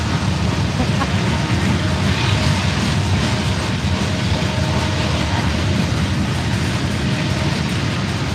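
A freight train led by a leased locomotive rolls past at Lilly, Pennsylvania, a steady, loud, continuous rumble of wheels and cars with faint clatter, holding level throughout with no pauses.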